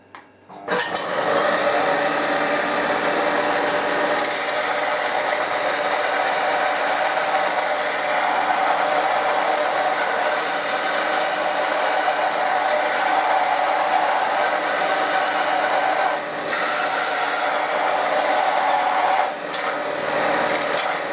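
A PRO CRAFT belt-disc sander runs continuously and loudly while a 5 mm thick tooth blade is lightly sharpened against it, giving a steady abrasive whir with a brief dip in the grinding near the end.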